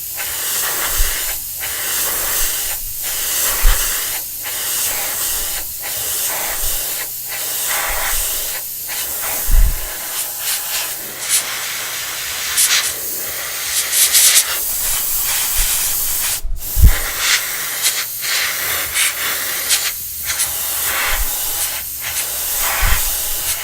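Parts of a Tamiya Volvo FH12 1/14 scale RC truck kit are spray painted up close, with loud hissing bursts repeated in a steady rhythm of short sprays and brief pauses.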